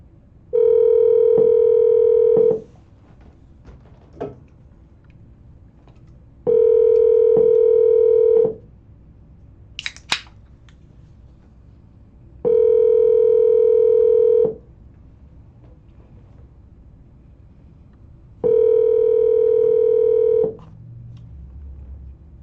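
A Google Voice phone line sounds four long steady tones, each about two seconds, evenly spaced with quiet gaps, plus a brief higher chirp midway through, with no talking.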